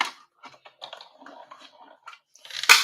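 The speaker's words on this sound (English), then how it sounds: "did you hear that big crunch?" A die-cutting machine crunches through paper with one loud, sharp burst near the end, preceded by quieter scattered clicks and handling noises at close range.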